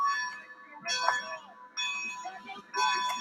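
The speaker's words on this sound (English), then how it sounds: "Oh God, that bell." A steam locomotive bell on a Norfolk & Western 475 model in the Roblox game rings in several separate, bright, resonant bursts with short gaps between them, fairly loud and close.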